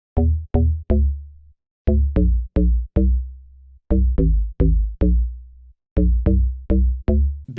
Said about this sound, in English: Bass Sakura is a really typical FM bass that you can hear in a lot of like deep and tropical